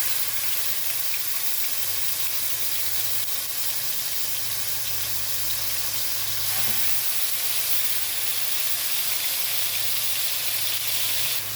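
Chicken breasts sear in a hot pan with two spoonfuls of oil on a gas stove, giving a loud, continuous sizzle and hiss that runs steadily throughout with a low hum underneath.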